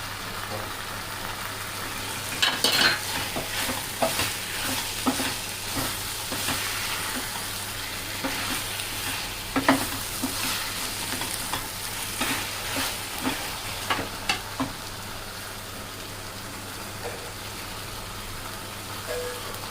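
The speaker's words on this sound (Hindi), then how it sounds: "अब इसमें हम आहिस्ता आहिस्ता करके कटल डालेंगे और हलाते रहेंगे" Jackfruit pieces being added to masala in a pan and stirred, a low, steady sizzle with scattered scraping clicks from the spoon, fairly quiet throughout.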